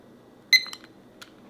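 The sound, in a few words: timer beeping as it is started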